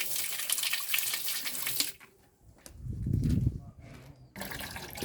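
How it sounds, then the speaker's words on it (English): Water poured into a concrete bio-digester chamber, a close splashing rush that cuts off briefly, then a deeper gurgling pour as it drains, followed by more splashing. "So I'm going to pour some water into it, and the water must be able to drain out of the chamber"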